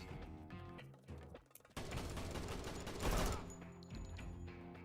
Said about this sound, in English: looks like there's some blind firing